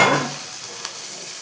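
Small onions sauté in a pan for a garlic gravy, a fairly loud sizzle at first that quickly settles into a faint hiss, marked by one brief scrape of stirring.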